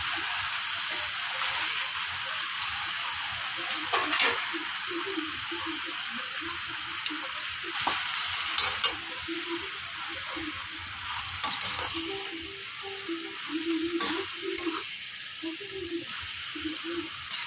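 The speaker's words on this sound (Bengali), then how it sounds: "আস্তে আস্তে শাকটা একটু সুন্দর করে মিশিয়ে নিই এর সাথে।" Water spinach (kalmi greens) fries in a wok with a steady, close sizzle and wet hiss, while a spatula scrapes and tosses the leaves in slow, irregular stirs throughout.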